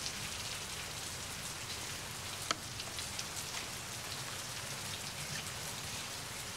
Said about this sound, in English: I want to get out of this rain.